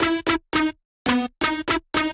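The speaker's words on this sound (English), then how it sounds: "So leads without effect sounds like this" A dry melodic drum and bass synth lead without effects, made in FL Studio, plays a short rhythmic phrase of seven clipped, bright stabs separated by silent gaps.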